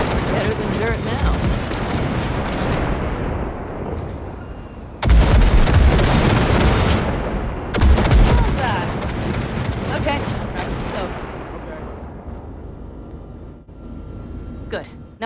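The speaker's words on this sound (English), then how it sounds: "All right, blast those wrecks. I'm shooting." Basilisk mech guns blasting wrecks in Cyberpunk 2077, delivering heavy booming bursts that come in waves with sharp onsets and rumbling decay, loud and close, a voice speaking over parts.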